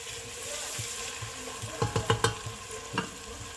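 Green chillies, onion, tomato, ginger and garlic fry in a pan with a steady sizzle, while a spoon stirs and scrapes in several quick clinks. The pan sounds close.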